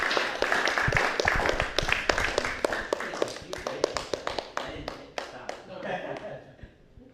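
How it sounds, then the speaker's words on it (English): Workshop audience applauding with sharp, dense claps that start loud and gradually thin out over several seconds, with cheering and voices mixed in near the end. "Round of applause here."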